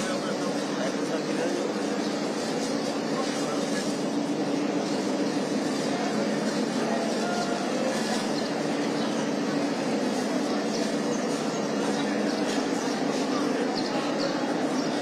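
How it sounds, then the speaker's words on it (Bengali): A commuter train on the Dhaka–Joydebpur route stands at Kamalapur station in Dhaka, giving a steady, loud wash of rumbling station and train noise that continues unbroken, with a busy background murmur. "এই মুহূর্তে আসলে এই ট্রেনটি ঢাকার কমলাপুরে এসে থেমেছে"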